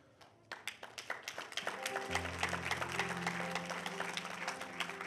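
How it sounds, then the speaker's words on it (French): A church congregation breaks into applause during a sermon. Scattered claps come first, then grow into fuller clapping, while a low steady tone rises underneath after the first two seconds. "pourquoi les gens applaudissent?"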